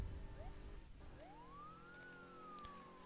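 A police car siren in the Prison Life video game rises in a long electronic wail and then fades, faint and steady under a constant hum of background game noise.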